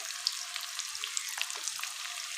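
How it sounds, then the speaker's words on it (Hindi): Potatoes fry quietly in ghee with spices, a soft continuous sizzle with small pops and light crackles, fairly faint and without talk. "उसके साथ ही इसमें हम डाल देंगे आलू और इसे हमने इसमें से फ्राई कर लेना है"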